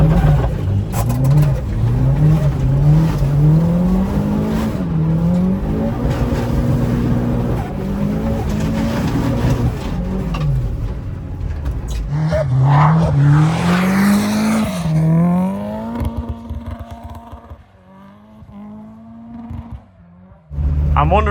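Mitsubishi EVO V RS on spiked tires sliding over snow, a loud near engine repeatedly revving and falling in pitch through slides, with rough scraping toward the end and occasional talk.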